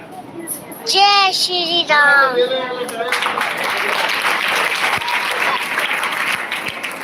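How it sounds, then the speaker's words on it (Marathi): Applause from an audience at a school award ceremony, a dense steady clapping that builds after children's voices and continues evenly to the end. "टाळ्यांची गर्मी चालू होत आहे"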